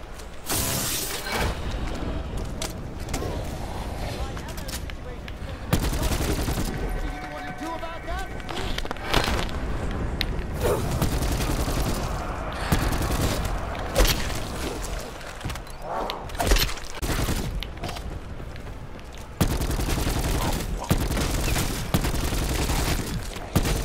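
Rapid gunfire in Call of Duty Black Ops 4 Zombies, with sharp repeated shots and bursts cracking throughout. Loud impacts and snarling creature noises mix in as players talk over the action.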